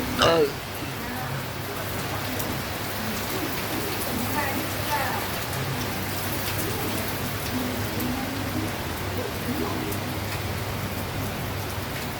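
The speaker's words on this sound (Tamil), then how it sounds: "2 நாள் அடித்த வெயிலுக்கு சரியான மழை ஊற்றுது." A steady heavy downpour in Maduravoyal, Chennai, with strong wind, hisses densely and evenly on nearby surfaces throughout, with a brief bump of louder noise at the start and a faint bird call now and then.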